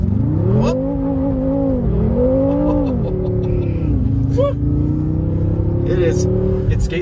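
A 2014 BMW M5 Competition launches hard under launch control, its engine note rising loud and close through rapid gear changes with a steady roar, while a person talks over it.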